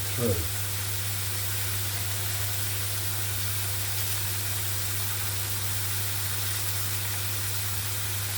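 Thinly sliced veal frying in a pan as it cooks through, giving a steady, even sizzle that runs throughout at close range beneath a constant low hum.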